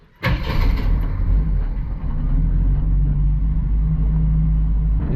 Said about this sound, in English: We're gonna take it for a little rip here and see how it drives.